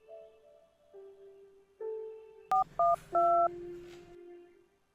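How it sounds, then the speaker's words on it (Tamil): Keypad tones of a telephone being dialed: a few soft single tones, then three quick, clear dual-tone beeps in succession over a low hum, set in a quiet room. "ஃபோன் போடு"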